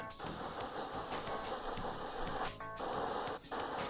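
Aerosol spray paint hissing onto a Battletech miniature, a steady close, loud spray running almost continuously with two brief breaks in the flow.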